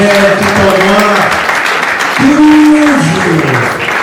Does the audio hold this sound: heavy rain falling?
no